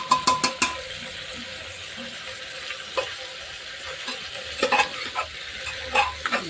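Spice masala fries in oil while being stirred, giving a soft, faint sizzle broken by repeated scraping and clinking from a spoon against the pan, clustered at the start and again later.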